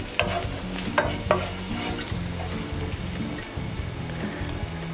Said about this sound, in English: So just stir it around, just to get things going.